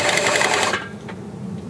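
Whirring mechanical rattle from the hand-spun blades of a Suffolk Super Punch cylinder lawnmower, loud and steady for under a second before dropping to a quieter hum.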